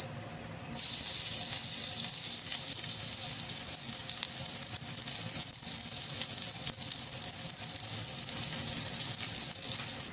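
Cumin, bay leaves and dried chillies hit hot oil and burst into a loud, steady sizzle that stays even and close after a quieter start.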